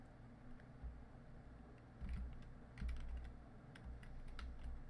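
Keys on a computer keyboard, mostly the spacebar and arrow keys, are pressed during a game, sounding as a quiet run of soft clicks and taps close by, with a few louder bursts of rapid presses and no talk.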